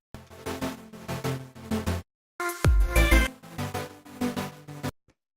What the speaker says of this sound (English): So the first thing we have here is this chord synth